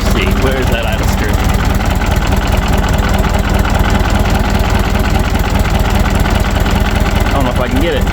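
A 1968 Ford Wagon engine idles low and steady just after a cold start, a continuous, loud, even rumble recorded close to the car.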